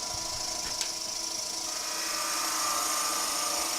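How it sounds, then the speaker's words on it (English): Woodturning lathe runs steadily with a gouge cutting into the spinning piece to hollow it out, a continuous bright hiss and hum with a single brief tick near the start. "Now we can start hollowing out for the head."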